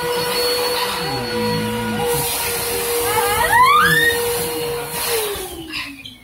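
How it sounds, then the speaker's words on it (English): A household vacuum cleaner is switched on indoors, its steady motor whine rising and holding loud and continuous, with a sweeping pitch glide as it spins up before cutting off near the end. "turn on the vacuum with her new switch"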